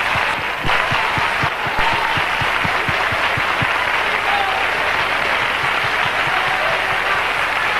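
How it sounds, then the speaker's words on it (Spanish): Loud, sustained audience applause at a flamenco performance, a dense wash of clapping that fills the whole stretch at an even level after the singers and guitarists are presented. "También aplausos para ellos, por favor."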